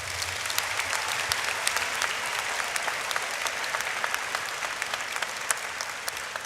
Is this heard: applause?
yes